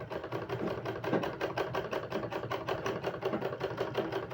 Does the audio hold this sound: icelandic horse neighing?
no